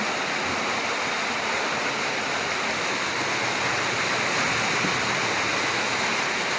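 Water leaks and runs down the side of a structure, a steady, dense rushing splash heard close and continuous throughout with no voices.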